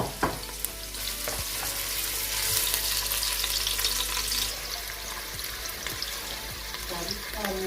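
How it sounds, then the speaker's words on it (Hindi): Onions sizzle and crackle in hot ghee, and the frying hiss swells as they are stirred, then settles to a steady sizzle. "घी गर्म हो गया, अब इसमें डालते हैं प्याज।"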